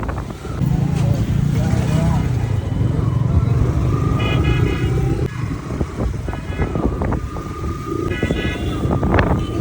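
A motorcycle engine runs steadily nearby amid busy road noise on a crowded early-morning street in Bangladesh, with a few brief horn toots and voices chattering in the background.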